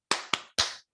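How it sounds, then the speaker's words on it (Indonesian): A class of young primary pupils does a rhythmic clap chant: three sharp, loud group claps with short gaps, then the start of a fourth, with no talking. "Tepuk semangat."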